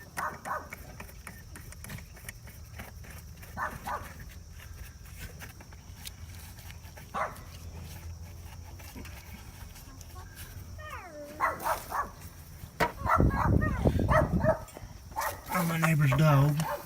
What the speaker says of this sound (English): my backyard repair would be complete without somebody's dog barking at you